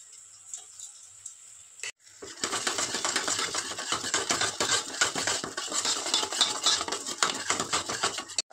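After a quiet moment, spice paste hits a hot kadai while Bengali macher jhol cooks, and a loud, steady sizzle starts up with a metal spoon clinking and scraping as it stirs.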